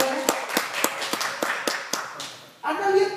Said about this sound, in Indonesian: Bisa tepuk tangan buat kalian.